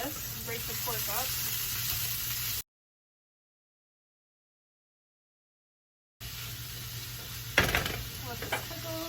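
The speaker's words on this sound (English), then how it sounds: "we're going to stir this, break the pork up" Pork frying in a pan sizzles steadily while being stirred, with scraping and a clatter of utensil against the pan, broken by a gap of silence midway.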